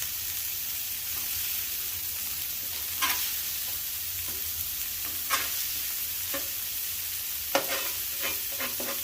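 Burgers sizzle on a flat top griddle at about three-quarter heat, a steady frying hiss punctuated by a few sharp scraping clicks from a spatula, with no voices.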